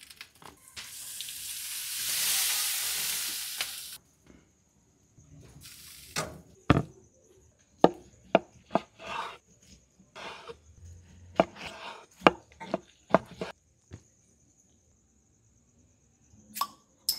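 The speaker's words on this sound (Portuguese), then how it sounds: "Agora eu vou passar umas 6 voltas no papel alumínio" Aluminium foil crackles and crinkles as it is wrapped several turns around seasoned meat before barbecue roasting, in sharp irregular bursts close to the ear, following a few seconds of steady hissing noise.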